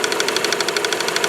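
A Renault Avantime 2.0T (F4RT) engine running at idle with a fast, regular clicking tapping over the steady engine hum, close and loud, no talking.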